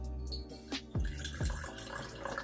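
Lemonade pours from a bottle with a gurgling, glugging liquid flow in short bursts, close and fairly quiet, with no talking.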